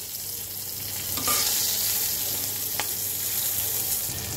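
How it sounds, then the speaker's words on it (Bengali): Green chilies fry in hot oil with nigella seeds and bay leaves, a steady close sizzle running throughout the clip with a brief stirring scrape partway through; no voices. "দুই এক মিনিট একটু ভেজে নেব"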